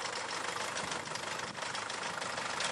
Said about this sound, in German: holt seinen alten Trecker mit dem Spezialkartoffelernter